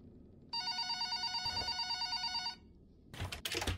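A telephone rings in the video game The Black Within with a rapid electronic trilling ring lasting about two seconds, clear and fairly close, followed by faint rustling and a brief burst of noise.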